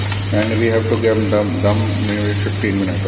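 Sweet zarda rice fries in hot oil in a pan, a steady, close sizzle running beneath a person speaking throughout.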